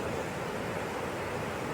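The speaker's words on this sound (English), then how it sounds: "it's a pretty spectacular waterfall when you get up here" Triple Falls in DuPont State Forest rushes in a steady, dense roar of falling water, a continuous wash with no voices.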